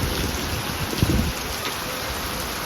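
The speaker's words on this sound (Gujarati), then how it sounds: "એક ધારો વરસાદ ચાલુ છે." Heavy, continuous monsoon rain pours steadily in a flooded village, a constant hiss of falling water with a brief cluster of heavier splashes and knocks near the middle.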